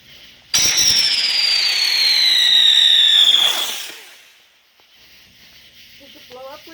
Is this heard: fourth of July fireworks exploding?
yes